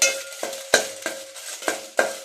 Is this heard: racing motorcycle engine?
no